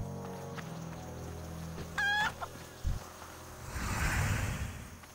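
Pet chicken in World of Warcraft gives a short burst of clucking and a brief crow-like call, fairly clear and close over a faint game background, followed by a low rumbling game sound.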